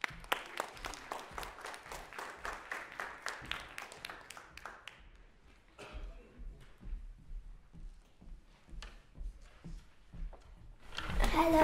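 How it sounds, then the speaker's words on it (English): Audience applause for a pianist at a student recital: a burst of clapping that thins out and fades, then scattered claps from a few people, with a rising noise at the very end. "Let's give our first pianist a round of applause."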